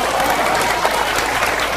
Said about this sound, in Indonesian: jangan tepuk-tepuk tangan aja